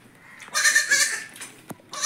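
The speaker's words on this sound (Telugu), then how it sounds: "మేకపిల్ల అరుస్తా ఉంది" A baby goat gives a loud, close bleat, then a shorter second cry after a brief knock, without talk.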